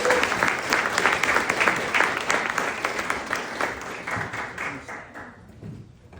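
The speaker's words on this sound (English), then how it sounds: "Give them a round of applause." An audience applauds at an Africa Day keynote event at Georgetown, a strong burst of clapping that gradually thins and fades toward the end.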